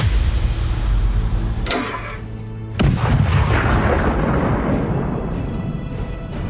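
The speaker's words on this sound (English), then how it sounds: "the artillery guys leveled the barrel, and they put in what they called canister rounds or beehive rounds" Artillery with a leveled barrel fires canister (beehive) rounds packed with flechette darts: two loud, sharp blasts about a second apart, each followed by a long rumbling roar and crackling echo, with no voices.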